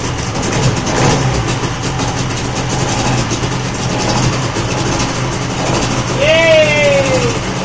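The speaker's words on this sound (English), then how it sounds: "Okay, that's full throttle now with the choke." An old outboard motor runs at full throttle with the choke on, a loud, continuous engine drone that holds steady throughout, with a brief rising whistle-like tone near the end.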